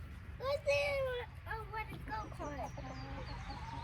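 Chickens in a backyard coop clucking and squawking in short, uneven bursts, close by, with a voice mixed in among the birds.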